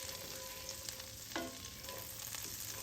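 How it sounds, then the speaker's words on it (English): Garlic fries steadily in a pan in a Southern home kitchen, a close, even hiss and crackle with a faint scrape of stirring, no voices. "now we're gonna stir this around a little bit till my garlic gets kind of caramelized a little bit"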